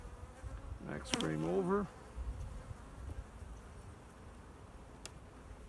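Honey bees buzz in an open hive during a spring inspection, a soft continuous hum close by, with a brief spoken phrase partway through.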